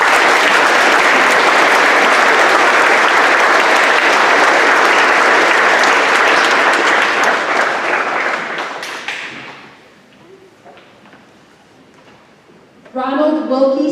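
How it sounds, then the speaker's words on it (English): Loud, full audience applause fills a high school Veterans Day assembly, then fades out into near quiet before a voice starts up near the end. "Ladies and gentlemen, please give a warm round of applause to Mr. William Parker."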